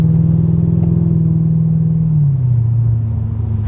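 A Mercedes CL500 V8 with a straight-pipe exhaust passes close by with a loud, steady low rumble that drops in pitch as it goes past.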